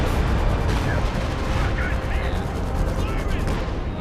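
Machine gun fire in Company of Heroes 2 rattles amid a thick wartime battle soundscape, steady bursts of shots mixed with distant booms under continuous battlefield noise.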